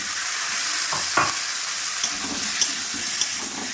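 New potatoes fry in a pan with a constant close sizzle, punctuated by a few soft scrapes and taps as they are stirred.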